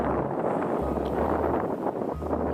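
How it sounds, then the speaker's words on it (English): Strong wind blows across the open Kranji Reservoir, buffeting the microphone in steady rumbling gusts with a constant broadband rush and no voices. "it's a very windy day"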